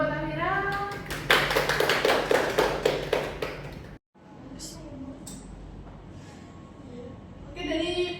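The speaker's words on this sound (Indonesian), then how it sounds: "kasih tepuk tangan dulu buat Amira" A classroom of high school students claps for a classmate during a physics lesson on projectile motion, a burst of dense applause lasting about three seconds before a sharp cut to quieter room noise with scattered voices and light taps.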